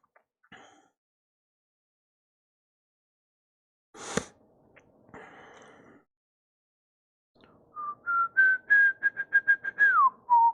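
A person whistles a short tune indoors, a run of quick, clear rising and falling notes near the end, preceded by a few brief knocks and a sharp thump in otherwise quiet surroundings.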